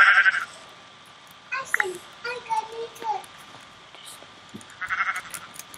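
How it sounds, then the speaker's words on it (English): Sheep in Minecraft bleat in several short, wavering calls, one after another and fairly close, with a few brief game sounds between them. "And Mr. Sheep, too"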